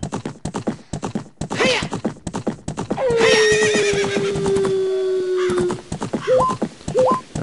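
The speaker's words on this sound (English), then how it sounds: "So I'm just kind of taking Epona for a test drive here, or I guess you'd call it a test ride." Epona the horse galloping in the video game Zelda: Ocarina of Time: a fast, steady clip-clop of hooves runs throughout, broken by one long, loud whinny in the middle and a few short neighs near the end.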